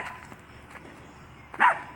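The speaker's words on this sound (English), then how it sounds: "What you barking at, Poop?" A single short dog bark rings out near the end, preceded by quiet rustling and faint movement sounds.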